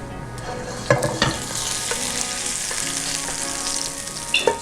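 Shallots sizzle steadily in a hot pan over high heat, with a few sharp scrapes and clacks of stirring standing out above the constant frying hiss.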